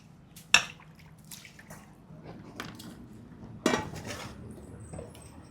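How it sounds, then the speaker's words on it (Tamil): Chicken pieces being rinsed in turmeric water in a kitchen: sparse splashes and drips, with two sharp clanks of a metal bowl or utensil standing out against a quiet background. "இப்போது இந்த சிக்கனை மஞ்சத்தூளில் போட்டு கழுவி எடுத்தாச்சுங்க"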